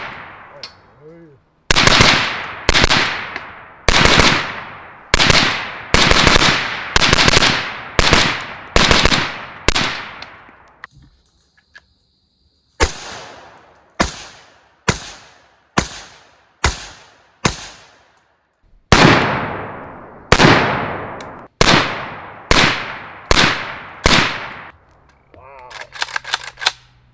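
Rifle fired with an LMT Ion 30 suppressor, shot after shot in fast strings and short bursts, each report sharp and loud with a quick decaying tail, separated by brief pauses.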